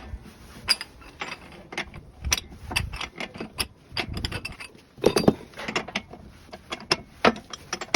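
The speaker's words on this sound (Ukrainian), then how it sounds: "От ми гайку відкрутив. далі крутиться руками." A nut comes off the front driveshaft of a TATA 613 truck, held in a press, with irregular close metallic clicks, taps and ratcheting rattles in uneven bursts and no talking.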